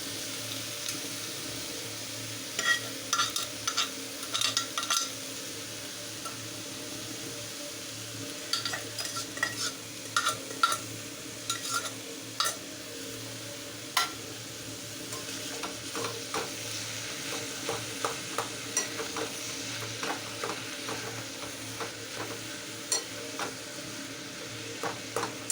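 Boiled cabbage and potato are stirred in a frying pan, giving a soft continuous sizzle broken by repeated scraping and clattering strokes of the spatula, close and fairly quiet, without speech.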